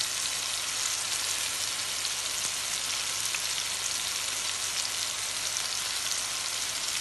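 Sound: banana frying in a pan with cinnamon and sugar

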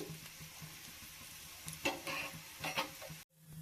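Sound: carrot roti frying in oil on a hot tawa

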